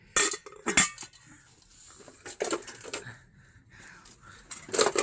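Metal pots clank and clatter against each other in several loud, sharp bursts, with quieter rattling between them.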